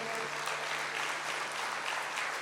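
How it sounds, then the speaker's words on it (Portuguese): A church congregation claps in a dense, steady burst of applause that fills the room evenly, moderately loud and without talk, for a few seconds. "Vamos aplaudir ao Senhor."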